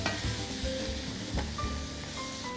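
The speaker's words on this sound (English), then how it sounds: "Stir fry it a little bit" Clam chowder ingredients are stir-fried in a pot, a steady close sizzle with scraping stirs and a few soft clunks, and no one talking.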